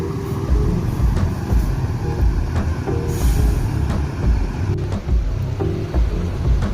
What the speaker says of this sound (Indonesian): Dan bus yang kelima masuk lagi ke Terminal Balai Solok, yaitu Firkansa 52.